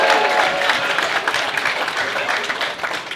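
Studio audience at a live stand-up comedy show clapping for a comedian, a dense, steady wash of applause held at full strength throughout, mixed with some crowd noise.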